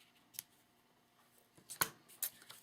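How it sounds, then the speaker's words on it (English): Scissors trim the edges of a small knot on a handmade garden-themed card, a few quick, sharp snips up close against a quiet background. "Then I'm trimming the edges"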